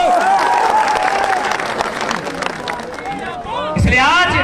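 A large crowd gathers at an election rally in Bokaro in 45-degree heat, with continuous loud hubbub and scattered cheering and clapping beneath a man's amplified speech.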